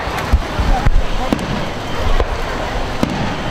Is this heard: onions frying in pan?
no